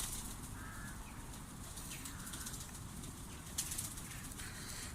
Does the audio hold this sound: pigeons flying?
yes